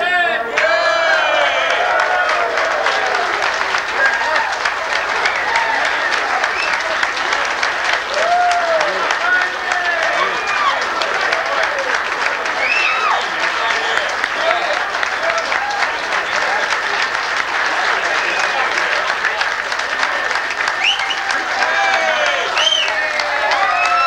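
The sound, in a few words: applause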